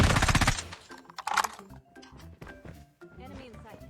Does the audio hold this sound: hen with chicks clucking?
no